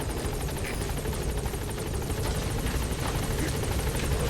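A helicopter in Metal Gear Solid 5 hovers close by, its rotor chopping in a rapid, steady pulse over a dense, loud engine roar that holds for the whole stretch, with no talking.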